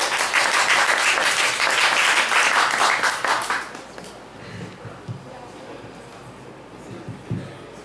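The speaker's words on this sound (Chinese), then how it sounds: "给他掌声一下。" An audience claps for a singer at a small Starbucks performance in Taiwan, loud steady applause for about three seconds that fades into scattered claps and room noise.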